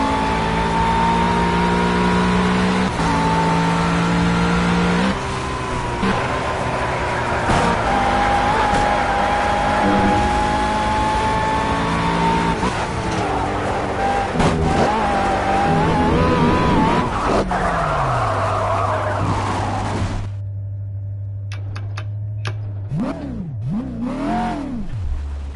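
A racing car engine in the video game Project Cars roars and revs continuously with gear shifts, then drops to a low idle with a couple of quick throttle blips at the end.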